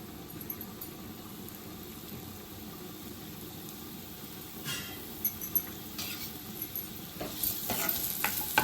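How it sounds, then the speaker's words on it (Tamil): Onions sizzle softly in melted ghee in a pan with salt added, cooked for a Mangalore chicken ghee roast. A faint, steady frying hiss comes with occasional stirring clinks that grow a little busier toward the end. "இந்த வெங்காயம் வதங்குறதுக்கு உப்பு சேர்த்துக்கிறேன்"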